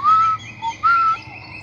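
A person whistles an imitation of bird song: a few bright, sustained tonal notes with short breaks between them, close and clear with no talk.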